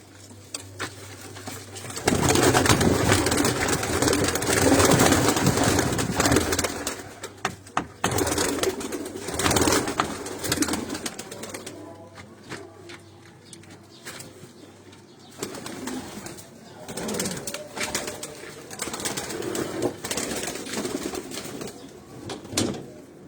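Breeder pigeons coo in a dense, busy loft alongside wing flaps and shuffling, loud at first and then in uneven bursts over a steady hum.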